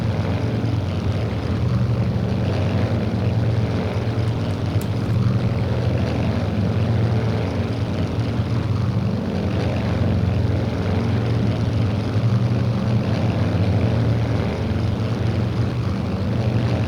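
A propeller aircraft carrying cluster bombs and napalm on its racks drones steadily as it levels out at altitude, a loud continuous engine hum heard from inside or close by, unchanging throughout.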